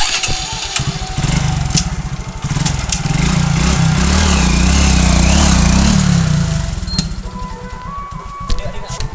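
A KTM RC 125 motorcycle engine, a 125 cc bike, drones steadily while riding, swelling louder in the middle and then easing off, with wind noise and faint roadside sounds around it.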